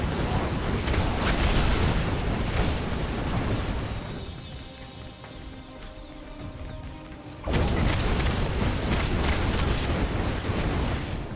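A cannon fires in Marvel Ultimate Alliance 2 amid heavy booming, rumbling blasts. A dense roar eases into a quieter stretch, then another loud burst of explosive rumble returns and continues.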